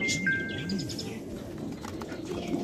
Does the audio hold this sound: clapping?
no